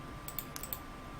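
A short burst of computer keyboard clicks as a key combination is pressed, a few quick crisp taps close up over a quiet room hum.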